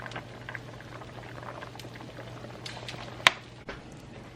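Water pours and bubbles in a pot of Jamaican stew peas, a steady simmering hiss with a brief sharp clink near the end, fairly quiet and close.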